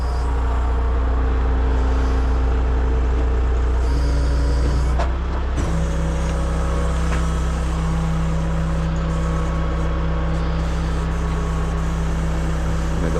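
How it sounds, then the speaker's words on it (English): A Hino rollback flatbed tow truck's engine runs at a steady idle, a loud, close, continuous low diesel rumble with a brief air-brake-like hiss partway through, and no voices. "got my truck running"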